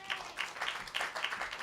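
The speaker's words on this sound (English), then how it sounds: "Please give a big round of applause" Audience applause at a storytelling event, a steady patter of many hands clapping at moderate distance, somewhat faint and continuous without voices.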